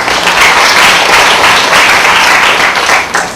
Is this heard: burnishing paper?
no